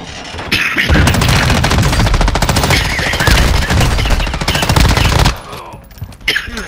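Automatic weapon fire from a 60-round magazine in the video game Call of Duty DMZ, a loud rapid burst that runs for several seconds, then stops and is followed by quieter game sounds.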